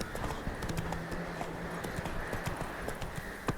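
Roach, a horse in the video game Witcher 3, runs with rapid, close hoofbeats pounding steadily, a brief whinny in the middle, with no voices.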